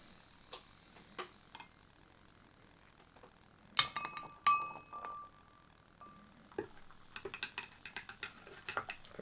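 A spoon clinks and taps against glasses while stirring Johnnie Walker White Walker whisky mixed with coffee, Pepsi and other drinks, giving sparse light chinks, a couple of sharper ringing hits, then a quick run of rapid small taps.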